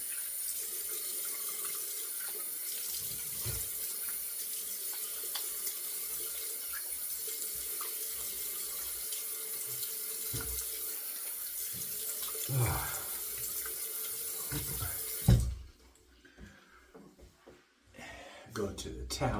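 Bathroom tap running at a sink while a shaving brush is rinsed: steady, close hiss of flowing water that cuts off near the end, leaving quieter handling noises, with a voice talking over it.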